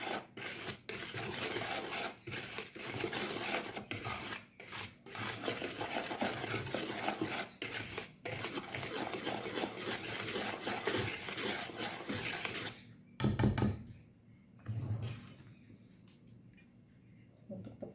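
Dry flour made of wheat and tapioca is stirred in a bowl, giving a steady, close scraping and rasping sound that runs for a long stretch before stopping, after which a few softer knocks follow.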